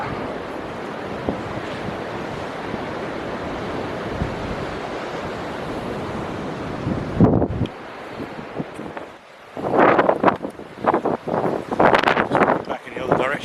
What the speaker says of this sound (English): As you can see, it's still windy here.